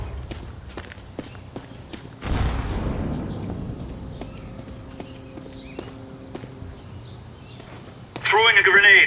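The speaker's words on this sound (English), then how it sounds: "Throwing a grenade." A grenade goes off in the mobile Counter-Strike game CSSO on the Inferno map: a single loud, close blast with a rumbling decay, set among light footsteps and clicks, then a short burst of radio-style voice at the end.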